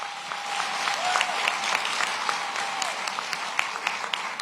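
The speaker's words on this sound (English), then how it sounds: "Give Officer Hassan Rogers a round of applause" At a police-community relations awards ceremony, an audience gives sustained applause for an award recipient, a dense, even clapping with occasional louder individual claps, a faint tone running under it.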